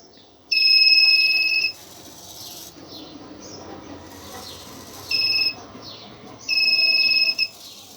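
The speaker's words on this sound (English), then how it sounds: "it will give a beep like this and it will continue to scan like this." A high-pitched electronic buzzer on an obstacle-scanning sensor cap sounds in three bursts: a long one, a short one, then another longer one, over faint background hum.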